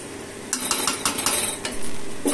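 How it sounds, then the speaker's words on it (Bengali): A spoon or spatula clinks and scrapes against a pot while bottle gourd curry is stirred, several quick metallic taps followed by a longer scraping stir, close and fairly loud. "আর একবার ভালো করে নেড়ে নিব।"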